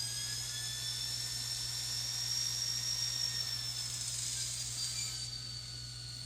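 A ScaleTrains N scale Southern GP30 model locomotive runs at speed step 10, giving a steady high-pitched electric motor whine over a constant low hum; the whine fades slightly near the end.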